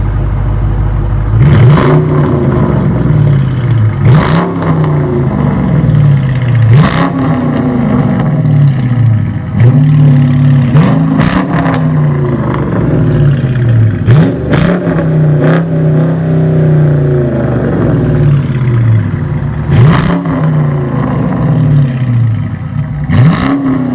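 A 2017 Dodge Charger R/T with a cat-back performance exhaust revs repeatedly up close, each loud throttle blip rising and falling in a regular rhythm over a deep, rumbling idle.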